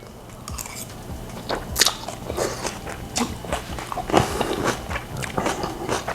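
Close, repeated crunchy bites and chewing of crisp escoveitch fish vegetables pickled in vinegar, irregular crackling crunches continuing throughout.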